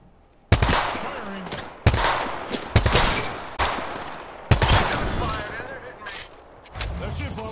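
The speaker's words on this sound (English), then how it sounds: "Shots fired, and they're hitting me" Gunfire in the battle-royale shooter Apex Legends, several sharp, loud bursts of shots at uneven intervals, each ringing out briefly, with voices talking over the action.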